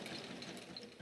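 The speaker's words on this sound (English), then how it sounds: "Just doing a little back stitching on mine" A sewing machine back-stitches on a quilt with a steady, quiet mechanical whir, heard alone and fairly faint for a brief moment.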